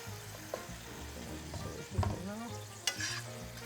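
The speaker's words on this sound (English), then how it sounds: "once you stir down all the tomato paste in the pot" A spoon stirs tomato paste in a pot over a flame, with soft sizzling and frying underneath, scraping strokes and a few sharper clinks against the pot, close and fairly quiet.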